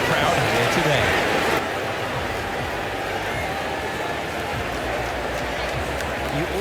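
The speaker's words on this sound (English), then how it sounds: "they thoroughly deserve the cheers of the crowd here today" A crowd cheers and applauds a championship win in the F1 24 racing video game, a dense continuous roar under a commentator's voice.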